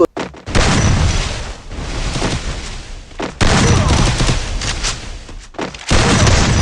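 Loud, rapid bursts of video-game gunfire from a shooter match scoring headshots, firing almost continuously with two brief pauses between volleys.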